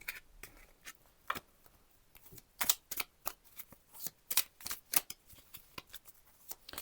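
Tarot and oracle cards being shuffled by hand, a run of soft irregular riffles and sharp crisp snaps that grow denser midway, close and quiet, with no voice.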